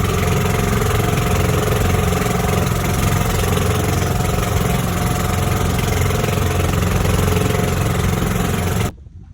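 A motorboat engine on a fishing boat in Quezon, Palawan, runs loud and steady at close range, an unbroken mechanical drone that cuts off abruptly near the end.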